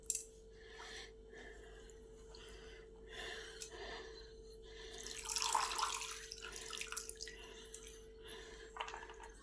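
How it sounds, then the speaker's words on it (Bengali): Coriander leaves are rinsed in a bowl of clean water, with close splashing, dripping and sloshing in uneven bursts over a faint steady hum, swelling to a busier wash midway. "পরিষ্কার জল নিয়ে এসেছি, আবার একবার ভালো করে পরিষ্কার করে ধুয়ে নেব"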